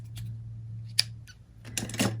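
Scissors snip crochet thread in a quiet room, giving a few faint, sharp clicks and a brief rustle, over a steady low electrical hum.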